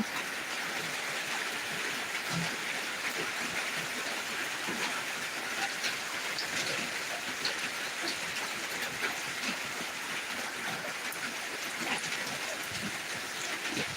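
Heavy monsoon downpour in Dinajpur, a dense, steady roar of rain drumming on surfaces nearby, constant and unbroken with no voices.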